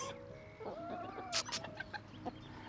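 Several chickens, including very small young ones, cluck softly in short, scattered bursts, with one sharper squawk midway, fairly close over a low steady background hum at an off-grid tiny house.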